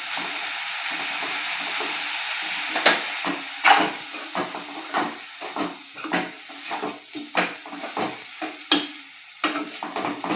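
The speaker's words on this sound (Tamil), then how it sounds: "தேங்காய் துருவல் சேர்த்து ரொம்ப நேரம் கிளறாதீங்க, சும்மா இந்த அளவுக்கு கிளறினா போதும்" Arai keerai greens with grated coconut stirred in a pan: a faint sizzle under a run of rhythmic scraping strokes of a spoon against the pan, close and clear, without voices.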